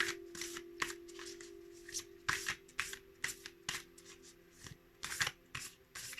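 A large oracle card deck being shuffled close by, quick riffling bursts and soft rubbing slides of the cards repeating in an uneven rhythm, with no talking.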